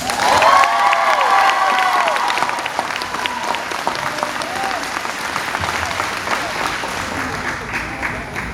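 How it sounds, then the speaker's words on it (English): A graduation ceremony crowd bursts into loud applause with whoops and cheers, a few shouting voices on top, the clapping continuing steadily and gradually easing. "Let's make some noise for Mr. Jaquavius Barnes."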